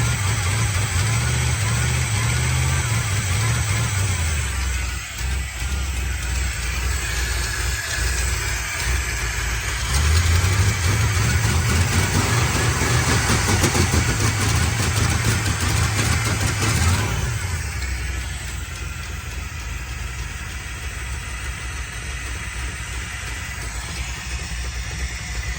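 A 1975 Chevrolet Corvette engine running on its own fuel supply, a steady mid-pitched idle with a couple of rev swells, heard up close as a voice speaks intermittently over it before the engine note settles lower.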